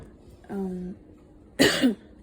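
A short hoarse vocal sound is followed by a single sharp, close cough, loud against a quiet background.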